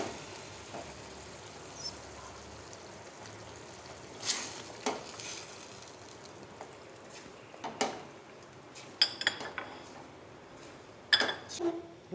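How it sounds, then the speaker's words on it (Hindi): Yogurt fries in tomato masala for chicken makhni handi in a pot, a low sizzle broken by several spoon stirs and metallic clinks against the pot. "दही डाल के थोड़ा भूनेंगे"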